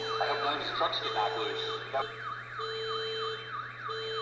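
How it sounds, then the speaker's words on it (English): A Lionel Florida East Coast AutoRack toy train car alarm: a warbling electronic siren rising and falling in steady rapid sweeps, with a steady tone beneath it, close and loud. "So you hear it set the alarm."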